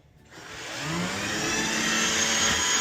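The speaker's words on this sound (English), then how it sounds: "The vacuum's dead." A cordless vacuum cleaner switches on and spins up over about a second into a loud, steady whine with a high mechanical hum, running close by without any talk.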